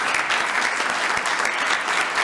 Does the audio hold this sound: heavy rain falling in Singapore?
no